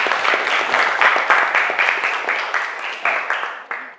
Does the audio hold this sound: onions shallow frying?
no